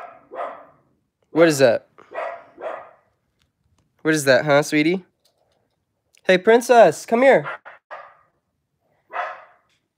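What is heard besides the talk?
dog barking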